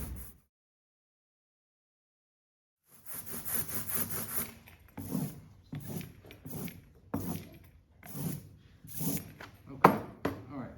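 Repeated sticky, tacky strokes of ink rolled out for relief printing, a series of rhythmic rubbing passes close up after a short silence, with faint talk underneath.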